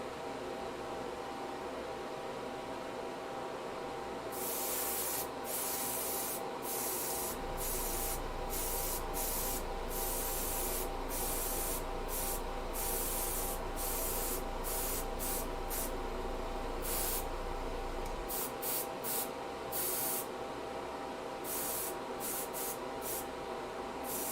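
An airbrush sprays paint onto DnD terrain in a series of hissing bursts of varying length, some long and some quick, over a steady compressor hum, close and continuous.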